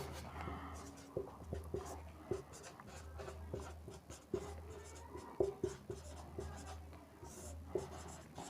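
Chalk or marker scratches and taps steadily across a board during a class 10 chemistry lesson, in short uneven strokes, while a teacher talks quietly over it.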